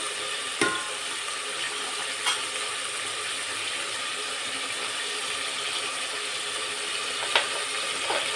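Onions frying in a pan for chicken biryani give a steady soft sizzle, with a few sharp clicks and knocks of a utensil against the pan scattered through.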